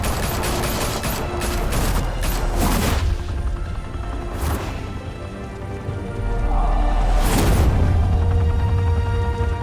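Gunfire in the Batman Telltale game crackles in a dense volley at first, followed by a couple of isolated loud shots and a heavy impact, over a rumbling dramatic background with occasional voices.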